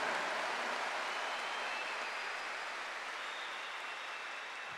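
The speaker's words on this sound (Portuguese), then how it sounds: "Dê uma salva de palmas." A church congregation applauds at a Catholic service, a steady, dense wash of clapping heard from a distance throughout, without any voices over it.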